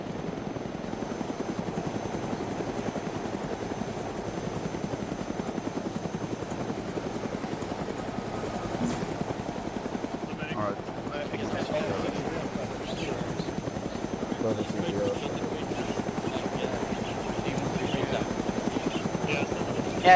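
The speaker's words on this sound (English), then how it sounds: "Probably shooting at the helicopter." A helicopter in the ArmA 3 video game, a continuous rapid rotor chop and engine drone that stays loud and steady throughout, with faint game sounds intermittently above it.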